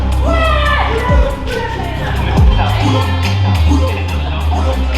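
Crowd noise on a music video shoot, a steady loud murmur of many voices with a few whoops and musical tones rising over it, continuous throughout.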